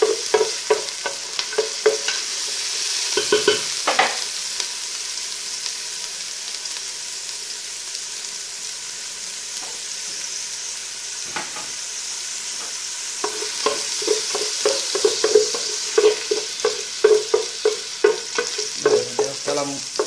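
Onion sizzles in a hot pan while a utensil stirs it, a steady bright frying hiss broken by repeated scraping strokes that cluster into quick bursts near the end, close and with no voices.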